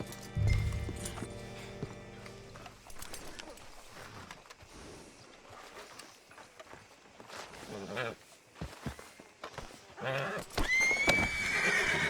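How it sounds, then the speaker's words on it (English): Horse hooves clop along with shuffling footsteps, and a horse whinnies loudly near the end, with Red Dead Redemption II game ambience underneath. "Hitch your horse up here."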